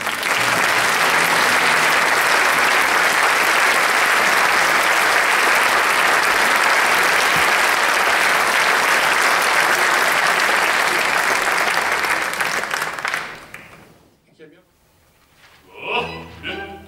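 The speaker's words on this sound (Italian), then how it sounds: "Ed ora possiamo fare un grande applauso al direttore Giovanna Sorbi" Audience at an international opera singing competition applauds conductor Giovanna Sorbi, with loud, dense, sustained clapping that fades out after about thirteen seconds, followed by a brief voice.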